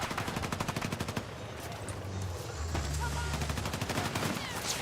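Rapid bursts of automatic gunfire crackle through a Battlefield 6 firefight, sustained volleys with a low rumble beneath, loud and continuous across the clip.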